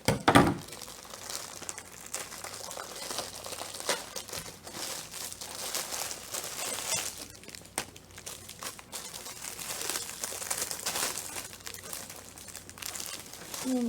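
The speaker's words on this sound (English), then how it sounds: "What I'm going to do is I need to open this packaging first." Plastic packaging being torn open and handled, a continuous run of close crinkling and rustling with a sharp initial rip and occasional louder crackles.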